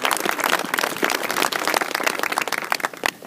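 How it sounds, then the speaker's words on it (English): Dense, steady applause from a crowd for the band at a 30th anniversary commemoration of the miners' strike, many overlapping claps that thin slightly toward the end. "Big round of applause for them too,"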